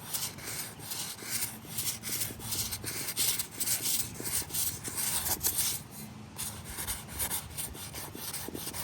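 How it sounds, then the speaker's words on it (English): P600 sandpaper rubbing over the edges of a rifle build to give it a worn look, a steady close scratchy rasp in quick repeated back-and-forth strokes with no speech. "So now we're going to get a little bit of sandpaper and give it some battle damage."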